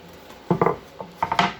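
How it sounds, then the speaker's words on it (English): A pan is set down on a wooden board during vegan Rice Krispie treat making, producing a few close, hollow knocks and scrapes in quick clusters with no voice over them. "So I'm just going to pop the pan on a wooden board instead"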